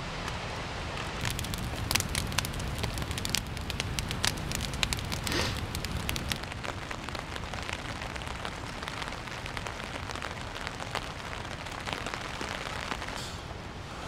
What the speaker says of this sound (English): It is 7 in the morning and it's a rainy day.